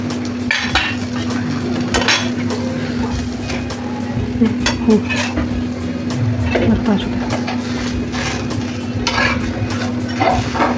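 Thalipeeth flatbread made from mixed flours frying in oil on a pan, with clinks and scrapes of a utensil on the pan and a steady hum underneath, while someone talks over it.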